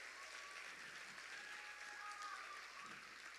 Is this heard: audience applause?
yes